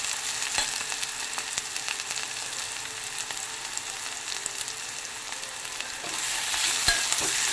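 Onion, green chili and tomato frying in oil for a chicken curry, a continuous close hiss and crackle of sizzling with occasional stirring scrapes, swelling slightly louder toward the end.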